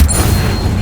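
An Incendio fire spell cast in the video game Hogwarts Legacy: a loud, low whooshing burst that rumbles steadily for under a second.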